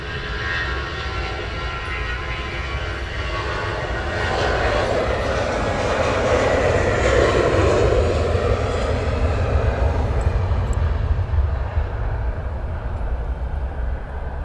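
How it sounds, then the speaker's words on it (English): A DHL Airbus A300 pushes back at Luton Airport, its engines giving a loud, steady roar that builds in the middle and holds throughout, with no one talking. "A300 is pushing back, guys"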